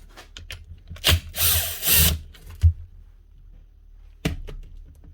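Power drill backing screws out of the gearbox housing of a cement-encrusted Bosch GRW 12 E mixing drill under repair: several short, close whirring bursts separated by pauses and small clicks.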